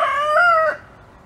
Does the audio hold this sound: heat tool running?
no